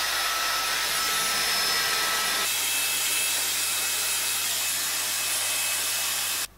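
A Dyson Airwrap hair styler blows air with a steady, loud broadband whoosh and a low hum, shifting in tone partway through as the heat setting changes, then cutting off at the end.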